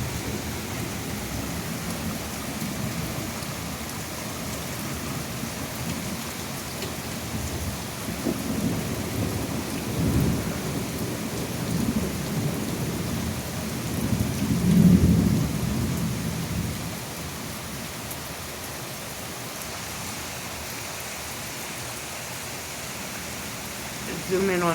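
Thunderstorm with heavy rain, steady rain hiss throughout with low rumbles of thunder swelling near the middle; a person and dog are nearby, with some faint talk underneath.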